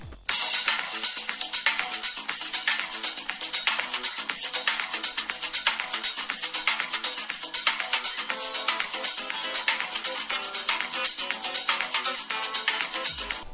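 Loud, busy music plays through a Xiaomi Redmi 9 smartphone loudspeaker, bright and thin with little bass, steady and dense for the whole stretch.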